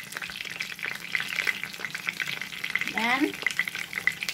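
Peppers stuffed with minced meat frying in a pan, giving a steady close sizzle and crackle throughout, with a brief spoken word and a short sweeping tonal sound near the end.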